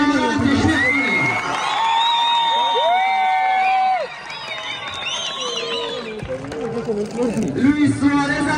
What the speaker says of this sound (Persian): تشویق کنیم.